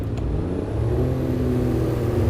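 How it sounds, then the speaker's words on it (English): Diesel engine of a Class 142 Pacer train in Train Simulator 2018 surging to full power, a steady loud low-pitched drone and whir rising slightly, close and continuous with no talk. "you can hear the surge of power there in the engine. I do love that sound with the Pacer units"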